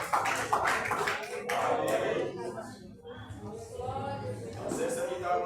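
Rhythmic hand clapping from a congregation during a Communion worship service, sharp repeated claps mixed with voices and some chuckling.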